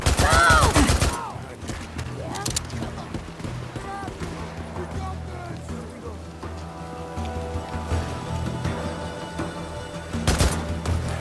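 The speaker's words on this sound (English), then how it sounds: "Someone's shooting!" Gunfire in Days Gone cracks in several loud, sharp bursts at the start and again near the end, with shouting voices and game sounds in between.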